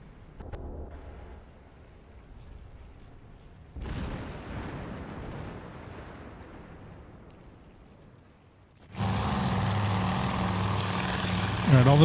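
Propeller engines of World War II torpedo bombers in the naval strategy game Task Force Admiral droning steadily, with a heavy blast midway and a louder, closer engine roar swelling near the end.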